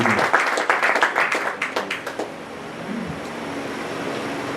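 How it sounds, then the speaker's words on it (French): A congregation claps during a Pentecostal church Sunday service, with brisk rhythmic applause that fades after a couple of seconds into a quiet room hum. "On va applaudir Seigneur."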